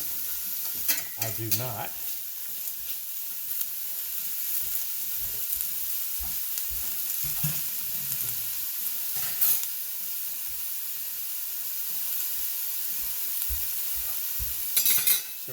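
Ground venison and beef sizzle loudly in a pot for Texas chili while a spoon scrapes and breaks the meat apart, keeping up a steady hiss with repeated stirring knocks; a voice speaks briefly.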